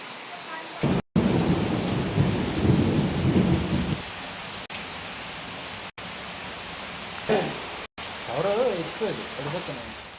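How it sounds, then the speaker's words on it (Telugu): Steady rain falls in Guntur district during heavy monsoon downpours, a dense hiss that is loudest at first. It thins later under scattered voices, with abrupt cuts breaking the sound. "గుంటూరు జిల్లాలో గత 2 రోజులుగా పడుతున్న వానతో అనేక ప్రాంతాలు జలమయమయ్యాయి."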